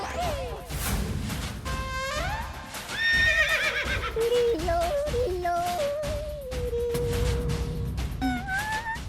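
A horse neighs and whinnies repeatedly with clip-clopping hooves, loud and close, mixed with crashes and whooshes under a busy comedic soundtrack.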